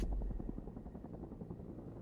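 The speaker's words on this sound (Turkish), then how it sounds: "Helikopter." A helicopter in the video game XIII Remake gives a steady low-frequency rotor chop with a continuous thrum, moderately loud and close, with no speech over it.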